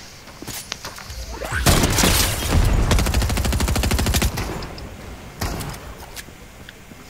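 Pistol fire in the Fortnite video game, a loud close burst of rapid shots followed by a quicker run of cracks and later a few separate reports, with game noise around them.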